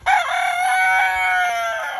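Rooster crowing in a backyard run with about 20 hens, one loud, close, drawn-out crow filling the whole moment.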